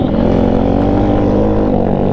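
A TAO TAO 140cc dirt pit bike engine running out on a ride, a loud, steady low drone close to the microphone with no talk.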